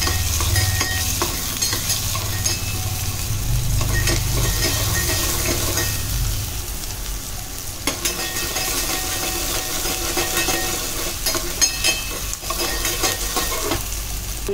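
Chopped onion sizzles and fries steadily in a hot pan until reddened, a continuous crackling hiss with occasional stirring scrapes, close and fairly loud throughout.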